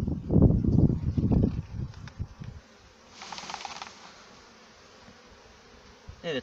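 Honeybees buzz around a hive frame of comb being handled by a beekeeper in winter, starting with loud, close rumbling and handling noise, then settling to a steady, fainter hum.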